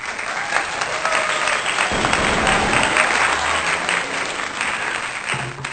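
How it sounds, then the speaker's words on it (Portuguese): Sustained, dense applause from a crowd, steady clapping filling the whole stretch without pause. "Salva de palmas, por favor."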